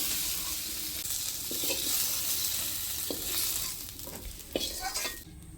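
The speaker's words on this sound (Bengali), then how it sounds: "আমার আলুগুলি ভাজা হয়ে গেছে, এখন আলুগুলি আমি তুলে নেব।" Potatoes fry in a pan in a home kitchen, a steady close sizzle with a few sharp stirring scrapes and clinks toward the end before the frying quiets.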